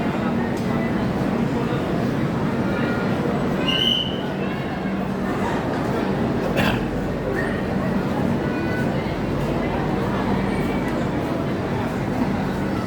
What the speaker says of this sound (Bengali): লালগড় এক্সপ্রেস ছেড়ে দিল।